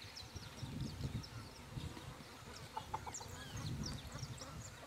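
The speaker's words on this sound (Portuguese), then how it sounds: "filmando agora essas galinhas aqui do pasto" Chickens in a farm pasture cluck softly in low, scattered bursts, quiet and somewhat distant, with insects buzzing and outdoor background noise throughout.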